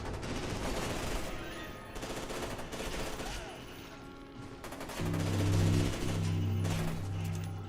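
Rapid automatic gunfire with recoil in the video game F.E.A.R., dense bursts of loud close shots with brief gaps, ending in a heavy booming burst with low rumble.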